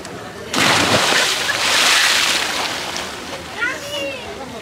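A loud splash of someone jumping into the sea at a coral reef off Giftun Island, Hurghada, followed by sloshing and wave wash, with a voice speaking briefly near the end.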